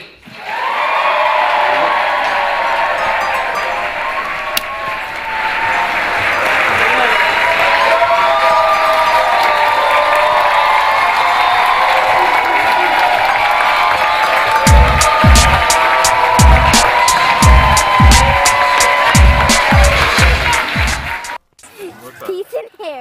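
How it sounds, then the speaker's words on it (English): Loud, sustained applause and cheering from a Baltimore comedy crowd for a comedian, a dense roar of claps and whoops that later resolves into distinct rhythmic claps before cutting off. "Big Baltimore round of applause for Mr. Jason"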